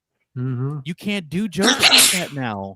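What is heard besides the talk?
person sneezing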